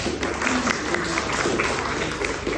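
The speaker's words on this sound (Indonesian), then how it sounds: "tolong memberikan aplaus untuk beliau" An audience applauds a presenter at a group presentation, with a continuous, moderate patter of clapping hands from a small crowd heard at mid distance.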